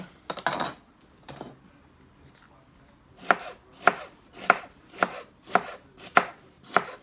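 A stick of celery chopped on a board for a salad: a few quick cuts first, then a run of seven evenly spaced, crisp knife strikes close by.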